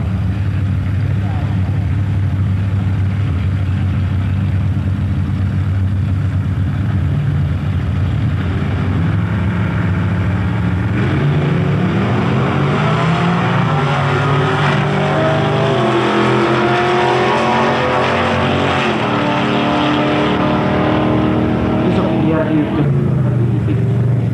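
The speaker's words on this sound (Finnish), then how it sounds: "Numerolla ajaa Juha Iäki siis ykkösellä ja Lavikainen Parrakutalla kakkosradalla" Street race cars, including a Plymouth Barracuda, roar loudly and continuously as engines rev and accelerate down the course, rising in pitch, with a commentator talking over the engine noise.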